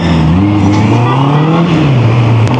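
A Honda CB650R motorcycle engine revs hard while accelerating, a loud, close, raspy roar whose pitch climbs and dips across gear changes, with no talk over it.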